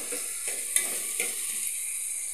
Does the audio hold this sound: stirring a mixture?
yes